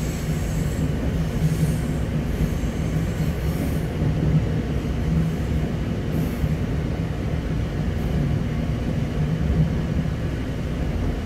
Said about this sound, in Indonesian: Rangkaian kereta masuk jalur 1 dibuka pintu sebelah kiri dari arah datangnya kereta